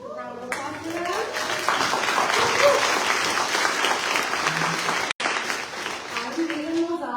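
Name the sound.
applause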